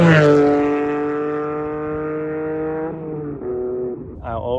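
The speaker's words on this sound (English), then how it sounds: "the sound of the engine behind your head" The mid-mounted engine of an Acura NSX sounds from behind the cabin, a strong, rich, harmonic drone that slowly falls in pitch, dips as if through a shift, then rises again near the end.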